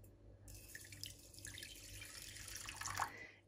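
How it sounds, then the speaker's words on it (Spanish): A cup of water is poured from a tap-like stream into a saucepan holding a spoonful of cloves, a close splashing trickle that lasts about three seconds and then cuts off. "Y le vamos a agregar una taza de agua."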